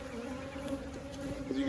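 Honeybees at an aggressive hive with a new queen give off a steady droning buzz throughout, close and even in loudness, with no talk over it.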